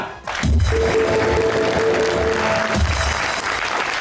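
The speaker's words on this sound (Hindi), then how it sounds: "तालियां" Studio audience applause at a Pakistani talk show, a broad wash of clapping that swells after a brief pause and holds steady, with a voice and low tones briefly cutting through.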